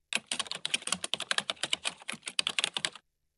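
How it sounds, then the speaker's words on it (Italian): Rapid typing on a computer keyboard into a website search bar, a quick, uneven burst of close keystrokes lasting about three seconds before stopping abruptly. "digitate nella barra di ricerca Fascicolo previdenziale del cittadino"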